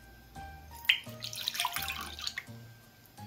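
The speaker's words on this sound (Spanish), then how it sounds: "Lo primero que vamos a hacer es poner una bebida vegetal" Warm plant-based milk is poured into a bowl for roscón dough, a quiet splashing trickle with a few soft knocks and clinks, with no talk.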